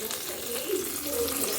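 Hot tempering oil with urad dal, mustard seeds and curry leaves poured into peanut chutney, giving a short, steady hiss and sizzle close by.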